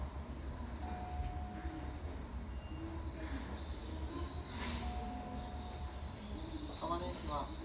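A Seibu Ikebukuro Line 2000 series electric train running, recorded directly above the circuit breaker: a steady, dense rumble of wheels and motors with faint tonal whines drifting in and out, continuous throughout.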